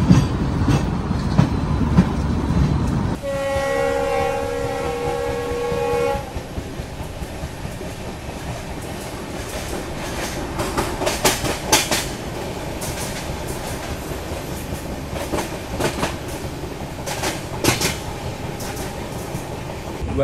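The Mandovi Express runs from Madgaon, heard from on board with a loud horn blast early on, then a steady rumble of the moving train and rhythmic clickety-clack of wheels over rail joints.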